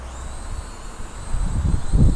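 Wind rumbles and buffets close to the microphone of an Aden A55 v2 drone in flight, growing stronger and gustier toward the end.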